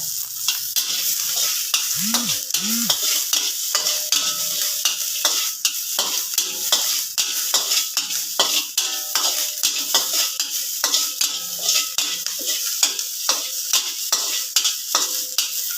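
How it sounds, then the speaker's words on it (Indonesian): Shallots frying in oil in a pan, a continuous close sizzle broken by frequent clicking stirs of a utensil against the pan, with no voices throughout. "Bawang merah masukkan tumis sampai harum"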